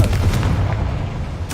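A Confringo blast spell goes off in the Hogwarts Legacy video game as a loud, close explosion. A deep booming rumble fills the clip and decays, and a brief voice-like tone enters at the very end.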